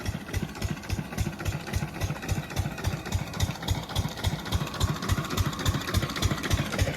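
A farm vehicle's engine idles steadily in a field of rain-flooded wheat, its even, rapid thudding pulse close and continuous throughout.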